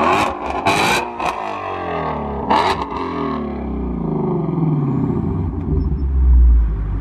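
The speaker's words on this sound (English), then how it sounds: "Can you give us a little rev?" A 2020 Chevrolet Corvette C8 engine gives a few sharp, loud revs close by, then settles into a lower rumbling idle.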